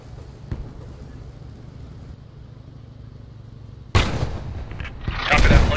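Tank shell striking and bouncing off armour in the WWII game Post Scriptum, a low engine rumble that suddenly breaks into a sharp, loud metallic crack followed by rumbling and a second burst.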